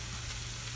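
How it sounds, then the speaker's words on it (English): Onions sweating in a pan with Italian herbs, pepper and salt, cooked in a van, give a steady, close frying sizzle throughout the short moment with no talking. "I'm just sweating down the onions"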